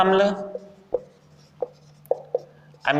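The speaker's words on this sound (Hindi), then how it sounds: "तो मैं यहां लिखता हूं एमिनो" Chalk or marker taps and strokes on a classroom board, a few sharp, separate knocks spaced irregularly, with a teacher's voice speaking briefly at the start.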